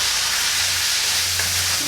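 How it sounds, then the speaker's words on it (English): Vegetables drop into a simmering pot of Creole gumbo and get stirred, a steady close sizzle and hiss with a low bubbling hum underneath, no talk. "Stir it one more time, and then drop all your vegetables in here like that"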